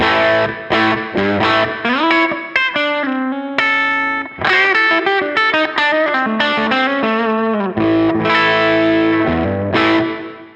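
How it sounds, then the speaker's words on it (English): A distorted electric guitar plays chords and single notes through a small amp with its channel volume cranked into overdrive, crunchy, with a gritty sustain and brief gaps between phrases. "You can also push this into an overdrive as well, just by cranking that channel volume a bit."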